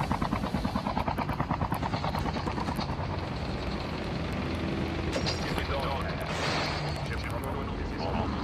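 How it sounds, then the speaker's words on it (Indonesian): In a video game, a helicopter's rotor beats out a steady, rapid chop while gunfire is aimed at it, with heavy bursts and rumbling impacts mixed into the thick, loud action. "Mereka menembak helikopter."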